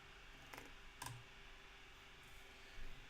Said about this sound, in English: Let's type that in here.